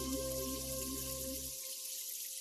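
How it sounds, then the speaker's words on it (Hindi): Water pours steadily from a can onto garden plants, a soft continuous splashing that runs beneath a sustained background tone, stopping partway through and leaving faint hiss. "तुम पौधों को पानी दे रही हो?"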